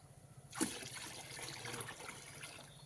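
Cold tap water trickles into a bucket of warm water, a faint, steady stream starting after a brief pause and running on quietly to the end.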